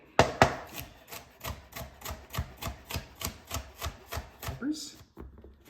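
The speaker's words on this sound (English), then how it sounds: "Ginger, just quick couple slices" A knife slices through ginger on a cutting board in about fifteen quick, evenly spaced taps, close and crisp, ending with a brief rustle and silence.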